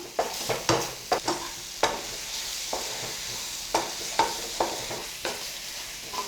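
Tomato and egg podimas being stirred in a pan, a spatula scraping and tapping against the metal in irregular bursts over a soft, steady sizzle, close and fairly loud with no talking.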